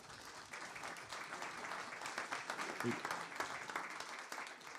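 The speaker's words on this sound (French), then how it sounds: "Je pense qu'on peut l'applaudir." Audience applause for an event organiser at a University of Bordeaux talk, a steady, quiet and distant patter of many hands clapping throughout the clip.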